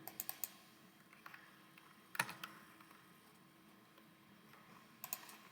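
Keyboard keys clack in short clustered bursts at the start, middle and end, with quiet pauses between, close and fairly soft with no talking.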